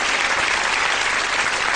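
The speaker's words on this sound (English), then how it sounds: "Give Sooty a round of applause, I think he deserves it" A theatre audience at a Sooty magic show applauds the trick, a dense, even wash of many clapping hands, sustained and fairly loud throughout with no voices standing out.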